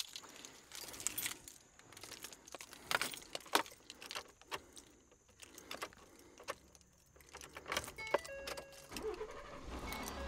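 A truck's engine starts up after keys jangle in the ignition, inside a vehicle fitted with a mobile ham radio setup; scattered clicks and rattles run throughout, with faint electronic tones near the end and no talking.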